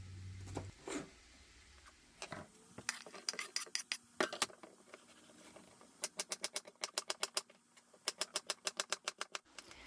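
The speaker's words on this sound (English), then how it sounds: "As I get through chopping each vegetable, I will just add it to the pot" Rapid, crisp knife strikes on a cutting board chopping vegetables for soup, in quick bursts of steady rhythmic chopping, close up, with a few scattered clinks and pauses between runs.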